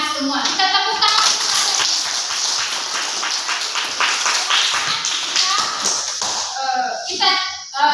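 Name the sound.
class clapping hands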